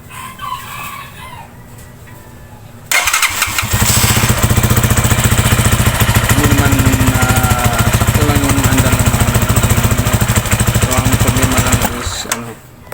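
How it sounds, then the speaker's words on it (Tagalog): A motorcycle engine starts up loud and rumbling, runs steadily for several seconds, then abruptly cuts out and goes quiet. "na-off yung makina niya mga idol"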